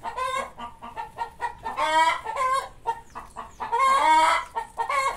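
Several chickens cluck and squawk close by in a busy, overlapping chorus, their calls rising and falling in short bursts.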